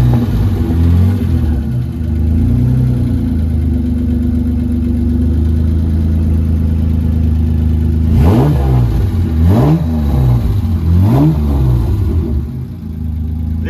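A Jaguar XKSS replica idles with a steady low rumble through its generous exhaust, then blips the throttle in three sharp revs that rise and fall in quick succession, loud and close, with no talk.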